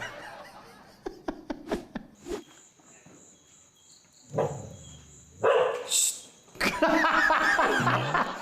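A dog gives a few sharp barks, scattered among other brief noises, with a loud burst of mixed sound near the end.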